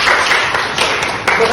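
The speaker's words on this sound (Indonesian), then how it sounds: "Tepuk tangan semuanya." A classroom group clapping together after a student finishes presenting, a dense, continuous burst of applause close by, filling the short moment without a break.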